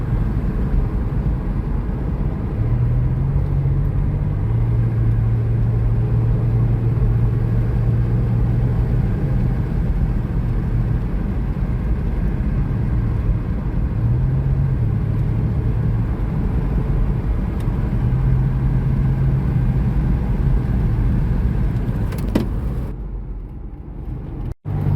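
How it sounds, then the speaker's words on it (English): A hot rod car cruises along a country road, its engine giving a constant loud, low rumble from inside the cabin, with a few faint shifts in pitch and a brief knock near the end. "Spirited drive through the country."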